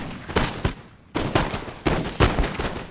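Volleys of musket fire from skirmishers in the Napoleon Total War video game, Russia against Great Britain, crackling in several dense bursts with brief gaps between them and no talk.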